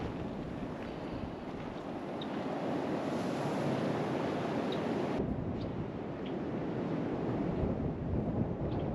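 Strong wind roars steadily into the microphone near Saratoga, Wyoming, a constant rough rush with gusty buffeting and no voices.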